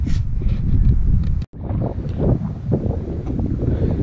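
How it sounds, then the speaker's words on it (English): Strong outdoor wind buffets a microphone with a constant loud low rumble and roar, broken by one brief dropout near the middle before the gusting resumes. "Wind's a little bit strong today."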